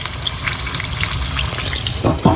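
Four pieces of chicken fry in a little oil, making a dense, close crackle and bubbling that holds steady, with louder splutters at the very end.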